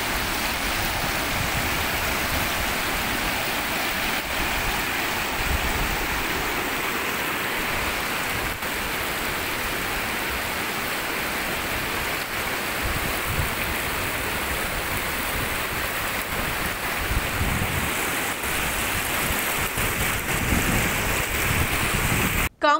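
A rain-swollen check dam overflows near Tatakulapalem village in Prakasam district, giving a continuous, steady rush of falling water, dense and unbroken from start to finish with no voices.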